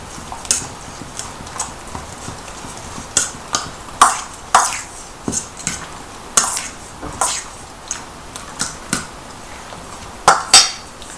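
Onions are stirred into pizza sauce in a bowl, a series of sharp, evenly spaced clicks and taps of the spoon against the container over quiet background, close and distinct, with no talk.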